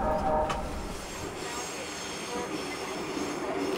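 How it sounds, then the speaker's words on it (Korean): A train rolls into motion with a steady rumble, wheels squealing on the rails and a brief clank near the start. "열차 움직입니다, 열차 움직입니다."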